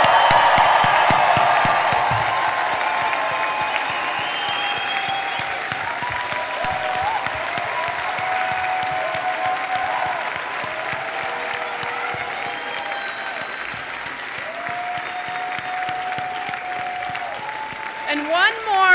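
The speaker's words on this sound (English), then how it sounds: "let's all give it one more round of applause for the class of 2026" Sustained applause from a large crowd at a law school commencement ceremony fills the space, loud at first then settling into steady clapping, with occasional whoops and a voice speaking.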